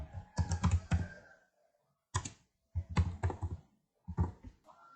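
Typing on a computer keyboard, heard as close, fairly quiet bursts of rapid key clicks separated by short pauses, with no talking.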